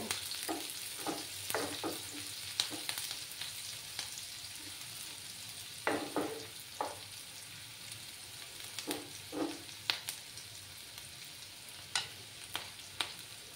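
Onions fry in oil in a pan for a fish curry, a soft steady sizzle broken by frequent sharp scrapes and clicks of stirring, close and without voices.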